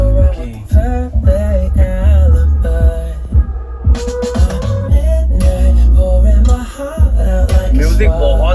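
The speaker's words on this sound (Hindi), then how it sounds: "ये NCS का गाना मैं आप लोग के लिए प्ले करता हूँ।" An electronic NCS track booming through a bass tube installed in a Mahindra Thar, loud and heavy in the low end with a rhythmic beat and melodic synth lines, playing throughout with brief dips.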